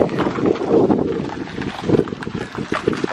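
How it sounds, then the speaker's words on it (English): Gusty wind buffets the microphone outdoors near Wallaman Falls, uneven low rumbling bursts that rise and fall over a few seconds. "Oh, windy. Windy, innit?"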